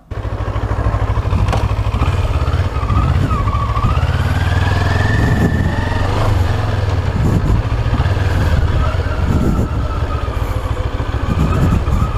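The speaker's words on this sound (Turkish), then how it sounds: "Gördüğünüz bu canavar Kawasaki Z1000 SX modeli." A Kawasaki Z1000 SX motorcycle with a 1000 cc engine and four exhausts runs close by, its deep, steady engine rumble loud and continuous throughout.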